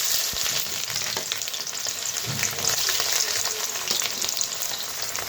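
Chopped onions sizzling in hot mustard oil in a wok, a steady dense frying hiss throughout with faint stirring scrapes, no voices.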